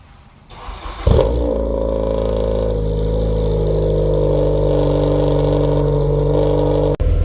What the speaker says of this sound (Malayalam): ഇന്നത്തെ വീഡിയോ തുടങ്ങുന്ന തന്നെ ഞാൻ വണ്ടീൻ്റെ കോൾ സ്റ്റാർട്ട് കേൾപ്പിച്ചു തരാം.